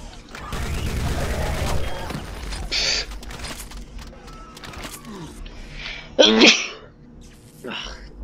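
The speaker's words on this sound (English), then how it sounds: "Let's use the heavy machine gun." Heavy machine gun fire in the Doom mod Project Brutality, arriving as scattered rapid bursts among other game sounds, with the loudest burst near the end.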